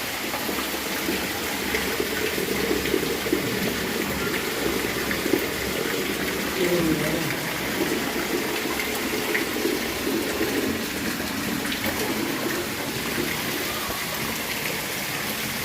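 Water runs steadily from a stainless steel tap, coming out dark and slow, a continuous close splashing rush with no talk.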